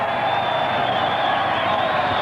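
Rugby league match crowd at a 1991 Canberra Raiders versus North Sydney Bears game, a steady loud roar of cheering from a large stadium audience.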